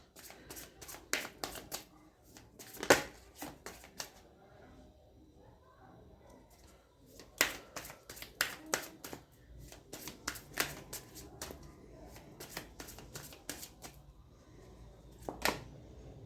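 A deck of tarot cards being shuffled by hand in repeated crisp riffles and slaps, close and fairly quiet, in irregular bursts spread over several seconds.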